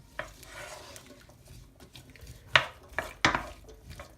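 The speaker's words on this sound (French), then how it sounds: "Et je vais mélanger." A spoon stirs rhubarb, cane sugar and water in a saucepan: a soft, quiet swirl at first, then a few sharper scrapes and knocks against the pan near the end.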